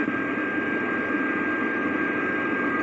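Steady radio interference on a software-defined radio: a constant hissing, buzzing static bed with a fixed whine, filling the whole short stretch at an even level with no voices.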